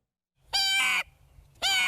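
A boy imitates songbird calls like a blue jay, robin and tufted titmouse, heard as two loud, harsh, buzzy cries about a second apart against a quiet background.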